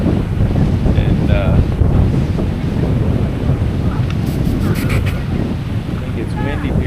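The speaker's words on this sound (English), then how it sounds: "it's windy here a lot, so it's known for kite surfing" Strong wind buffets the microphone on a Boracay beach facing the ocean, a constant loud roar with surf and faint voices mixed in.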